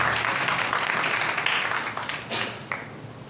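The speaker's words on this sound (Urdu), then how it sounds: "آئیں زوردار تالیاں خداوند کے لیے بجائیں۔" A church congregation applauds loudly, a dense burst of many hands clapping that gradually thins and fades over a few seconds.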